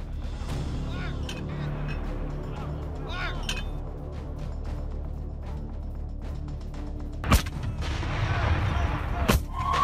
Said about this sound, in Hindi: हमास का आईडीएफ पर मोर्टार से हमला, इजरायली बेस पर बरसाए गोले